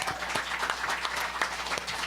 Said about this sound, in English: Please give Anders a round of applause.